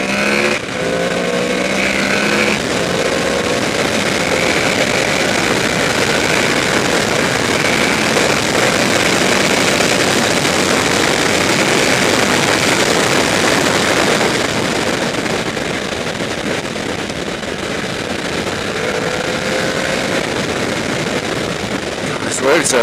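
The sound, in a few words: 2014 Honda VFR800F V4 VTEC motorcycle engine accelerating, overtaking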